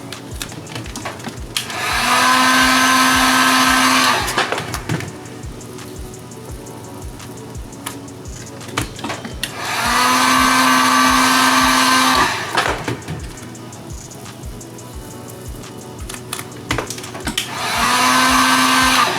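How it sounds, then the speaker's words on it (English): A heat gun blows hot air in three loud, steady bursts with a whirring motor tone, each lasting a few seconds, separated by quieter pauses, heating a Onewheel XR section by section. "these heat guns heat up fast and hot."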